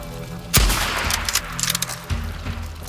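Gunfire in the video game Days Gone erupts with a loud close blast followed by a rapid crackling burst of shots and a second report.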